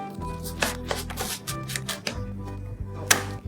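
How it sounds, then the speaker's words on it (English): A knife minces a peeled garlic clove on a board in a quick run of sharp, close taps that pause briefly and then resume. "Peel and mince it."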